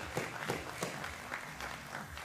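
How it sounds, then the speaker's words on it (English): Scattered applause from spectators at a junior men's 50m rifle three-positions trio competition, uneven clapping with separate loud claps in an irregular rhythm, fairly faint. "Applause."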